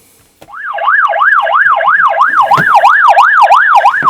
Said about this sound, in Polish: Po włączeniu tego kamera zaczyna nam wyć.